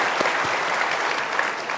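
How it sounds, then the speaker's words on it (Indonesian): Audience applause at a televised evening event, a dense wash of clapping hands at close range, with a few sharper individual claps standing out. "kita berikan tepuk tangan dulu untuk Ibu"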